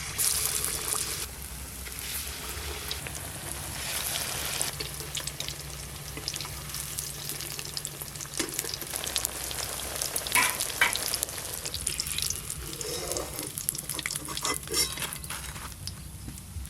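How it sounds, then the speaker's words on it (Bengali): Pumpkin fritters (kumro chop) frying in oil in a home kitchen, a steady close crackling sizzle with occasional clinks of a utensil, continuing alone for the whole stretch. "এই 3টে ভাজলেই সব ভাজা হয়ে যাবে"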